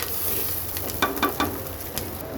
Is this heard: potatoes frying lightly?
yes